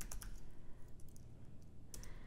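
Quiet clicks of a computer keyboard as a short command is typed, a few light keystrokes clustered at the start and near the end, close and faint.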